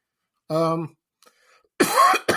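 A couple of harsh, close coughs, one short hoarse burst followed after a pause by a louder, rougher fit.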